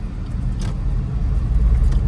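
A small Suzuki Espresso car produces a steady low engine rumble and road noise throughout, close and continuous, with no talk.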